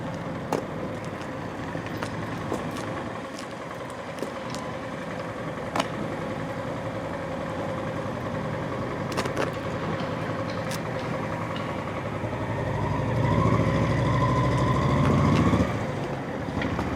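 The engine of a 1972 Cadillac hearse, running for the first time in 29 years, idles in a low steady rumble with small clicks and knocks, swelling briefly louder near the end as it is revved.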